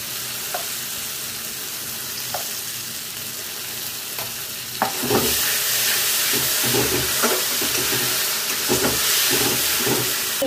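Tomato paste hits hot cooked spice masala for fish roe kalia, the quiet sizzle jumping into a loud, dense frying hiss halfway through, with stirring scrapes and bubbling pops, close up and without speech.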